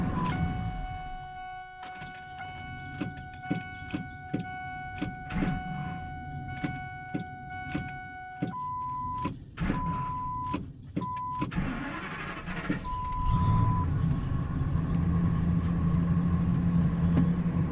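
A truck's engine cranks and catches with a hesitation, preceded by clicks and switch sounds, then settles into a low, uneven idle rumble nearby.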